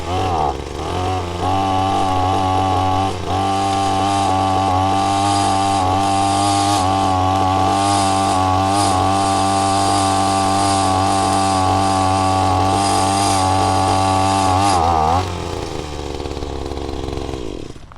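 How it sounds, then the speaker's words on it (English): A brand-new Badger 4-in-1 system hedge trimmer attachment runs with a loud, steady motor drone for most of the clip before winding down near the end. "let's see how it handles the hedge trimmers"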